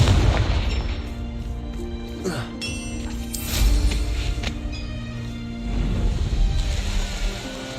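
Confringo blasting spells explode in a Harry Potter video game, producing several heavy booms and crashing bursts that rumble loudly across a continuous layer of game sound.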